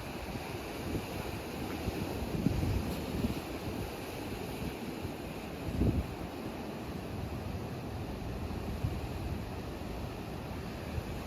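Sea waves break and wash against the granite shore of the Cornish coast, a continuous broadband roar with two louder surges, mixed with wind buffeting the microphone and no voices.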